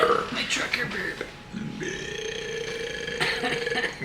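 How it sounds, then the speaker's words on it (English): A loud, long trucker-style belch from a man in a truck cab, a rough croaking burp stretching over several seconds with a quieter tonal hum underneath and no one speaking. "I just recorded that big old belch. My trucker burp."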